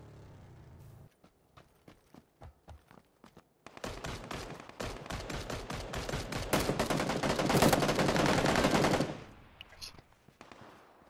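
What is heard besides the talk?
gunfire in a video game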